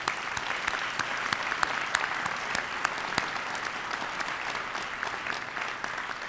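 A large crowd at a senior class night gives a full, steady round of applause for teachers, coaches and community members, loud and continuous with a few sharp individual claps standing out.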